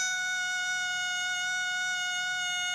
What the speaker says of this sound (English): it creates an audible warning indication that sounds like this